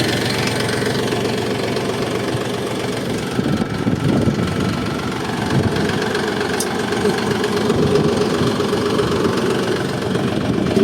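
A low, rumbling DT-354U tractor engine idles steadily throughout, with a rough, knocking mechanical texture and no talking.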